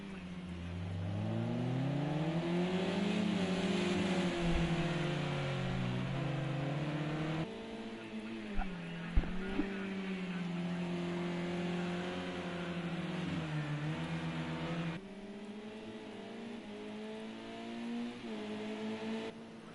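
Race cars lapping the Oulton Park Island circuit in a MEGA Sport UK championship race: close engines rev and shift gears over and over, with pitch climbing and dropping through corners and a few sharp knocks, and no voices.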